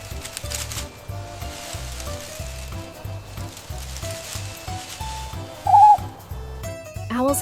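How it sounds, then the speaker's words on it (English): An owl hoots in a brief, clear call over a steady rhythmic backing track in a forest animals setting, followed by a short rising whistle-like sound at the end. "It's an owl."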